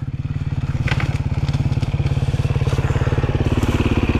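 A non-premium-brand motorcycle engine idles and revs close by, a steady rapid low thrumming pulse with faint mechanical clatter on top, continuous throughout.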